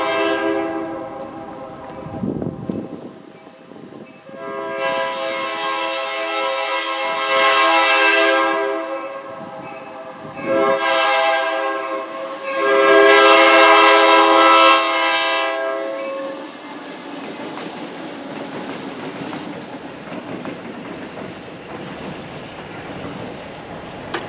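A pair of SD-50 diesel locomotives rumble past while a loud multi-tone horn blasts several times in long and short bursts, followed by rolling wheel noise fading.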